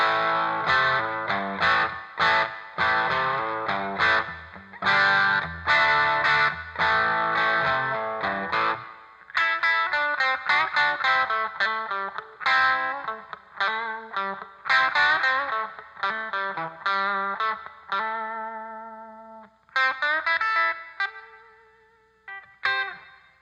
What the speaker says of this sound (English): Definitely big, raunchy P90 sound.